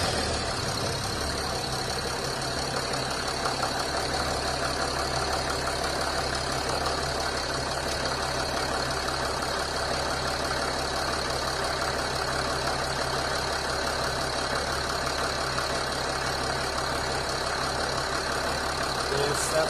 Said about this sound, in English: so I'm just going to start the car.